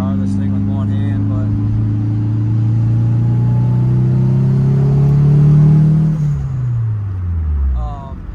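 Nissan 180SX driving with a loud, rising whine from its straight-cut gears over a steady engine drone, pitch sweeping up as it accelerates and dropping away near the end, with faint talk from inside the car.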